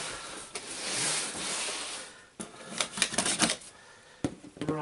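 A Lego delivery box is cut open with scissors and a knife: scraping slices through cardboard and tape, followed by a quick series of close crackling snips and rustles.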